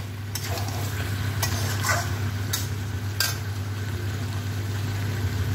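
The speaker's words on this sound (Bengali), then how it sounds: "এখন আমি মেথি পাতাটা দিয়ে দেব।" Fenugreek leaves stirred into a sizzling chicken curry, a steady low hiss broken by a few brief scraping clatters of a spoon against the pan.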